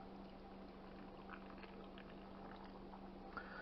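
Hot water pours steadily into a jar of chicken for pressure canning at close range, a low continuous gurgle under a faint hum.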